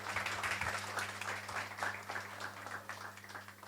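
A crowd claps for a girl named Rhythm on a girls' cricket tour to Solapur, the applause moderate and lively over a low steady hum, fading slightly toward the end.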